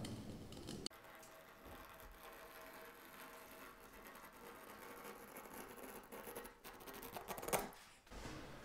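Snipping and scraping of scissors cutting through tape along the edge of a suspended ceiling at close range, with a sharper snip near the end.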